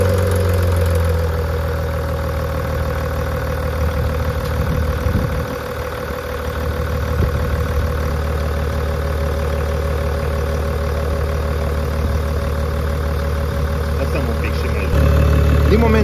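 A Range Rover engine, under repair with the intercooler hoses being refitted, runs at a steady low idle with a continuous rumbling drone and slight knock, a brief dip midway, loud and close throughout.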